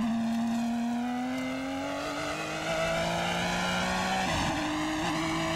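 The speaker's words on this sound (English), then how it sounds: "Let's see if we can tell from the sound of the car whether it's healthy." An IMSA GTP prototype race car at Portland in 1990 holds a loud, steady engine howl whose pitch climbs slowly, then briefly dips and recovers as it works along the track.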